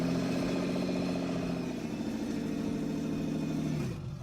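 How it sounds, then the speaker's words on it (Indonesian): A rebuilt Acura NSX engine rumbles steadily after start-up, a heavy, even drone heard from the cockpit that holds for several seconds before easing down slightly at the end. "Saat mesin dinyalakan, kokpit mengeluarkan suara gemuruh berat."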